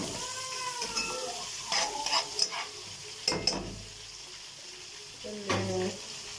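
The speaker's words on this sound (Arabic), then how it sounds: "حمر البصله" Onions frying in a pan for fried fish and sayadeya rice, a soft steady sizzle close by, broken by a few stirring scrapes and brief voice-like sounds.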